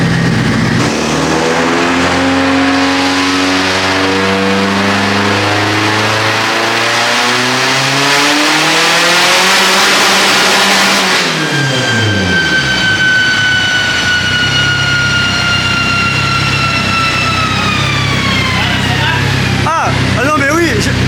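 A turbocharged 367-horsepower car engine revs hard, its pitch climbing then falling back before a second sustained high-revving pull, loud and close throughout.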